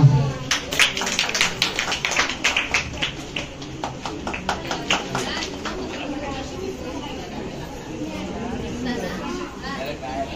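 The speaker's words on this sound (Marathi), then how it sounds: "टाळ्या." A group claps in a quick, steady rhythm at a Raksha Bandhan event in a girls' hostel, loud at first then fading out after several seconds, while people chatter around them.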